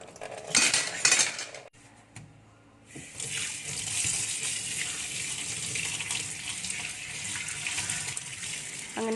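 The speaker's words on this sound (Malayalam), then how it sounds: "ഞാനിതാ എല്ലാം കഴുകി വൃത്തിയാക്കി വെക്കാൻ തുടങ്ങി" Dishes, pots and cutlery clatter and scrape under running tap water at a home kitchen sink, close and continuous, with a brief pause in the flow before washing resumes steadily.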